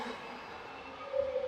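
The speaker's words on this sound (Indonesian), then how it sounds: "Di kejauhan terdengar suara kereta." A distant train rumbles past a quiet station, heard from the trackside as a faint, steady roll with a thin wheel squeal rising near the end.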